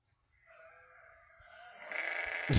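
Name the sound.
sheep bleating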